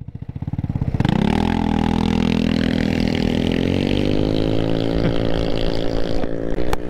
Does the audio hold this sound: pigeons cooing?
no